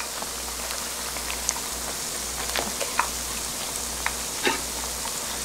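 Mini hot dogs fry in hot oil as a snack, giving a steady close crackling sizzle with scattered sharp pops and no talk.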